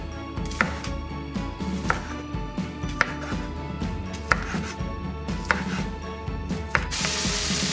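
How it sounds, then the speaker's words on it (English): A knife slices Polish sausage into small pieces on a board, making a steady series of sharp chopping taps about every second, close and clear, with no voices. "In the meantime, we slice the sausage into small pieces."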